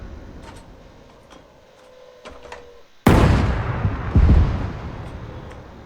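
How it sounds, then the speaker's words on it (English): A 105mm cannon firing in Arma 3 Apex on Tanoa, one loud booming shot after quiet mechanical ticking, with a second heavy blast rolling in about a second later. "Big cannon, 105mm."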